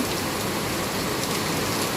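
Heavy rain pours steadily in Malaysia, a dense, even hiss of drops drumming on surfaces, continuous and fairly close with no voices.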